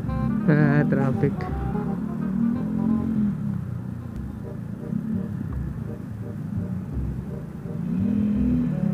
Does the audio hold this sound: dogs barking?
no